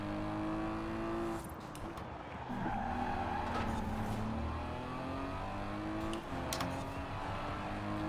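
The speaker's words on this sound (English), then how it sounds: "I hear your fucking car." Cars racing in Forza Horizon 4, engines droning and shifting pitch with tyre squeal and skidding, steady and fairly loud throughout.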